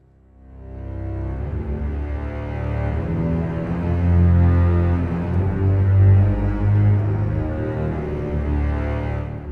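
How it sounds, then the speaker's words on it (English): An octaved legato string patch from the Albion 1 orchestral library swells in softly and sustains as dark, layered, spooky tones that slowly shift pitch, with no voices. "the thing is with the Legato patches in Albion 1 is they're octaved"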